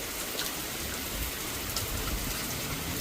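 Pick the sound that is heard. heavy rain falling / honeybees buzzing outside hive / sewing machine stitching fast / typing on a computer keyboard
heavy rain falling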